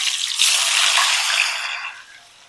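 Plantain slices deep frying in hot oil give a loud, dense sizzling hiss. It holds steady, then eases and fades toward the end.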